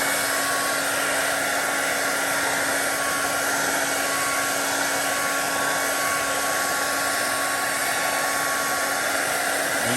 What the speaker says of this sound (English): we're going to go ahead and turn the blow dryer on high heat